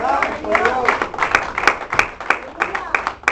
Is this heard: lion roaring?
no